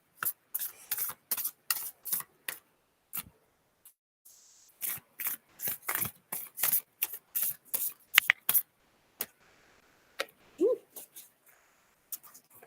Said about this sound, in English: A little bit of a messy shuffle there